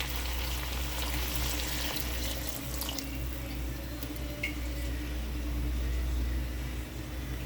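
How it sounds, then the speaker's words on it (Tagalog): A pot of chicken in water bubbles and simmers steadily, a soft, hissing churn of boiling water heard close but quietly. "Pakukuluan natin yung ating manok."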